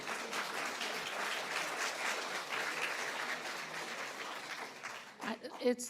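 An audience at a fashion conference in Philadelphia applauds steadily for about five seconds, a dense, sustained wash of clapping that tapers at the end, followed by a couple of brief louder sounds.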